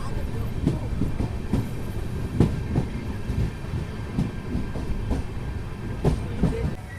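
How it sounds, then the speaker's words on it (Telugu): A train rolls in at platform 2 of Pentanaka station on the Machilipatnam to Bidar superfast express, steady rumble with rhythmic wheel clacks and thumps over rail joints, loud and continuous with faint crowd noise around. "సో మన ట్రైన్ వచ్చేసి ప్లాట్ఫామ్ 2కి అయితే వచ్చింది మనకు పెంటనాకి."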